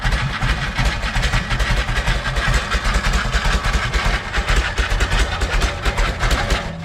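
A Harley panhead motorcycle engine idles low and loose, with an uneven, lumpy beat and mechanical clatter, loud and close throughout.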